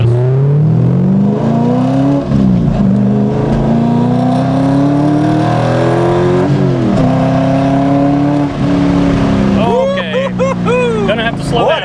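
A modified 2003 Corvette Z06 engine pulls hard from second gear, revving up through the range loud and close, with a brief dip between pulls and a higher whine near the end.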